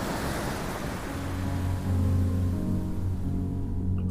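Underwater ambience in the cold sea off South Africa: a steady, muffled rumbling wash with a deep low hum, continuous and even, with no voices.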